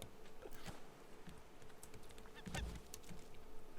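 Geese honking in the Raft survival video game, faint scattered honks over a quiet ambient bed with a few soft clicks, including one louder honk near the middle.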